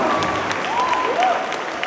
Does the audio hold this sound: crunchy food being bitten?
no